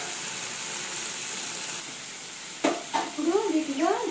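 Okra (lady's finger) frying in a pan, a steady bright sizzle throughout, joined near the end by a few clinks and scrapes of stirring.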